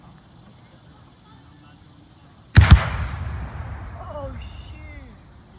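A Civil War reenactment cannon fires once, a loud, close boom with a long rumbling tail at an outdoor encampment and battle, after a quiet stretch; a voice exclaims briefly just before the blast and faint voices follow.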